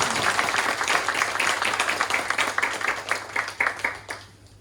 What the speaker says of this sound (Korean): 각자 우리 큰 박수로 축하드립니다.